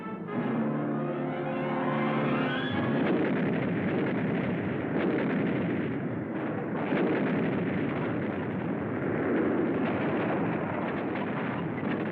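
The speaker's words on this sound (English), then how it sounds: "We call for artillery." An artillery barrage in a war video game, a dense, continuous rumble of distant booms and blasts that rolls on steadily, after a brief musical swell at the start.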